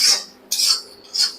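Spice paste stirred while frying in a wok, three short hissing scraping strokes about half a second apart, close and fairly loud with no talking.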